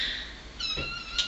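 A house cat meows close by, with a short, bright call or two rising over a steady low background hiss.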